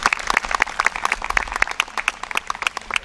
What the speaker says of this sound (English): I'd like to give them a round of applause and appreciate their efforts